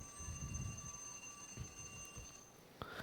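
A timer alarm sounds faintly as a steady electronic tone that holds for a couple of seconds before stopping, over low background rumble and noise.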